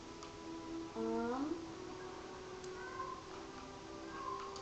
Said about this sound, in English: My cat is crying.